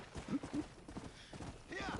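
Horse hooves clip-clop in a quick gallop in Red Dead Redemption, close and steady under a person talking.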